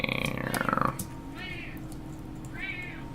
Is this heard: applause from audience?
no